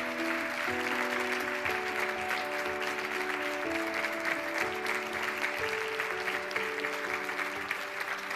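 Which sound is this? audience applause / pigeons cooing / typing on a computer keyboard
audience applause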